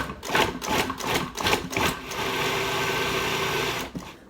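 A food processor whirls salsa ingredients including peppers in short pulsed bursts, then runs steadily for a couple of seconds before stopping, a loud close-up motor whine with no talking.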